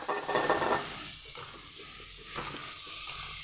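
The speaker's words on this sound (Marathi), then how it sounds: "आता आपण गाजर टाकूया. गाजर चांगलं परतून घेऊया." Carrots sautéing in hot ghee over a low flame, opening with a louder burst of sizzle as they go in, then settling into a soft steady frying hiss with a few stirring scrapes, close by and without speech.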